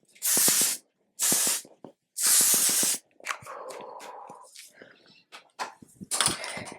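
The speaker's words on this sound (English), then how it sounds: "I'm gonna take my L'Oreal Infallible 3-second spray" Three loud, close hissing sprays from a pump bottle of makeup setting spray, evenly spaced, followed by quieter rustling and handling noises.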